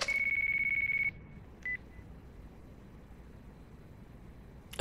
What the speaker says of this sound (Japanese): 誰か電話来たん？